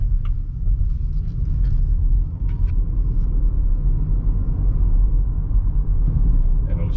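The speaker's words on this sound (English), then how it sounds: "Gently touch the throttle." A 2023 Haval Jolion 1.5 hybrid pulls away under gentle throttle, giving a steady low road and drivetrain rumble inside the cabin, with voices talking over it.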